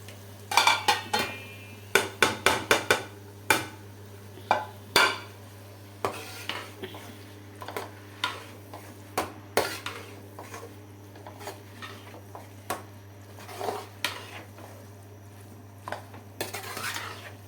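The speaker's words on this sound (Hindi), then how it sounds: "और अब मैं इसमें शामिल करने लगी अपनी भिंडी।" Okra dropped into a pan for a sweet-and-sour spiced bhindi dish, with repeated clinks and scrapes of a spoon against the pan as it is stirred, a steady low hum running underneath.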